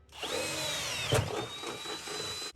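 A power drill cuts a grommet hole for light bar wiring on a jon boat, a steady close whine holding from start to finish with a brief louder bite near the middle, no one speaking.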